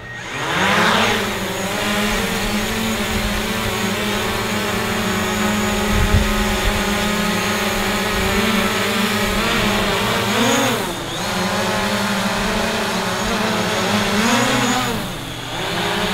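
A drone in flight gives a continuous loud, steady motor whine with rich harmonics, the pitch shifting briefly as the craft maneuvers, with no talk over it.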